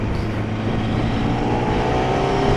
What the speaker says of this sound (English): did you hear the exhaust valve just open then?